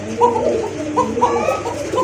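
A pair of Subha Chandan fancy pigeons coo close by in soft, throaty, repeated calls, several overlapping in a steady murmur.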